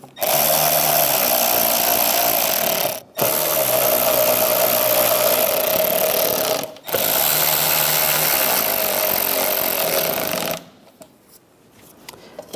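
A power driver runs in three long, steady high-pitched bursts with short pauses between, tightening tail light screws on a 2007-2013 Mini Cooper, then the tool stops and leaves quiet handling noise.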